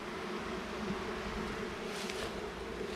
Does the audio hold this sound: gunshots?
no